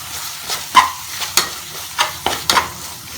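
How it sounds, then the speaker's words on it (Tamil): Chicken keema with tomato and salt being stirred in a hot pan, a spoon scraping in a steady series of soft strokes over a constant background sizzle of frying. "உப்பு சேர்த்துட்டு அதை நல்லா மிக்ஸ் பண்ணிடுங்க"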